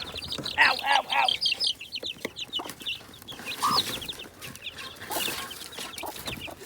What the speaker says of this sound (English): Trying to get the chicks in.